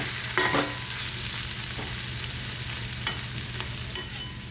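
Ghevda bean sabzi fries quietly in a pan as a spoon stirs it, giving a soft, steady sizzle with a few sharp scrapes and knocks against the pan, and no one speaks.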